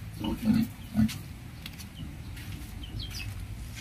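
Grunts of a female pig kept separately on a pig farm for grower-stage fatteners, two short close grunts near the start, then quieter pen noise, with light background voices.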